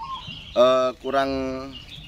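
A perkutut zebra dove gives two close, tonal cooing calls, the second longer than the first, sounding near and clear against a quiet background.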